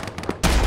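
Gunfire in the Arma military game on a Takistan battlefield, tanks burning nearby: light muffled shots give way to a loud, sustained roaring burst of fire that runs to the end.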